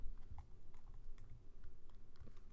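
Keys clatter on a computer keyboard in quick, uneven bursts of soft, close clicks, with no voices.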